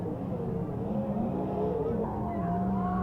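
Race car engines at the Silver Dollar Speedway drone and rev from a distance, their pitch rising and sliding as they circle the track in a steady blended roar.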